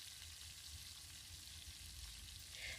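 Seasoned ground meat frying in a pan for cheeseburger hand pies, giving a steady, moderately quiet sizzle with low stirring scrapes and no talking.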